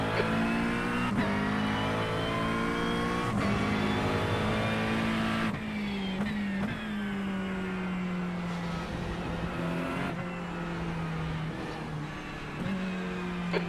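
Race car in the iRacing sim pulling out of the pit lane, engine droning and rising through several gear changes, steady and close with no talk.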